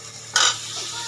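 Potatoes drop into a pan of frying onions with a sudden loud hiss that flares for a moment and then settles into a steady, softer sizzle.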